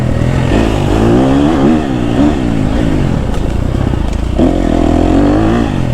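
A KTM 250 SXF motocross bike on a forest trail, its four-stroke engine loud and close, revving and easing off continuously as the rider works through corners and over small bridges.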